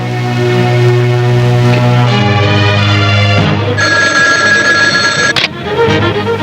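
A telephone rings loudly in repeated bursts of bright, shifting electronic tones that continue for several seconds without talk.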